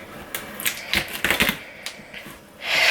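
Vegetables for chicken caldo are cut on a board in a home kitchen: a series of sharp, close knife taps in an uneven rhythm, with a brief rustle at the end.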